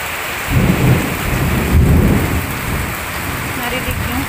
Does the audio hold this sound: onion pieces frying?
no